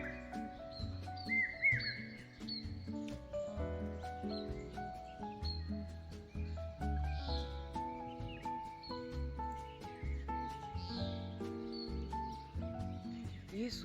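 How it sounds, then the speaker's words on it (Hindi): Birds chirp and call repeatedly in a quiet morning setting, with faint, scattered tweets and trills over soft background sounds. "ये चिड़ियों की आवाज़ शायद आप सुन पा रहे होंगे"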